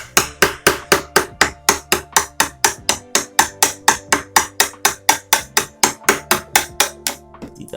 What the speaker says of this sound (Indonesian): Ini kita pahat.